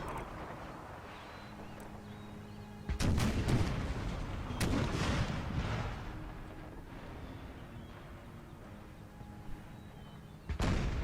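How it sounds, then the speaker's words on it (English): Cannons firing round shot in an American Civil War video game: several loud, booming blasts with rumbling tails, bunched around the middle of the clip, plus a final sharp report, over steady battlefield ambience. "Shelling the bastards with round shot."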